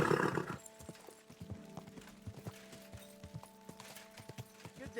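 Horse hooves clip-clop in Kingdom Come Deliverance 2 as a ridden horse walks: a steady, crisp rhythm of hoof strikes, close and moderately loud, with a faint whinny-like tone underneath and a brief burst of noise at the start.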